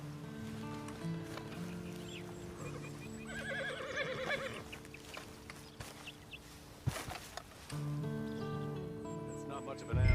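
A horse in the video game Red Dead Online whinnies and its hooves clop and shuffle at a walk, mixed with other game ambience and a voice talking over it.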